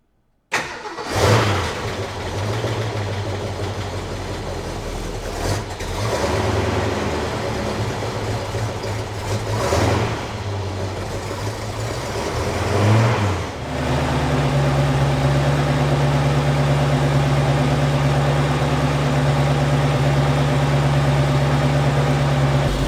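A 1970 Ford Mustang Mach 1 with a 428 Cobra Jet V8 starts, and the engine runs loud and close. It gives several sharp throttle blips over a lumpy, rumbling idle, then settles into a steady idle, with no talking.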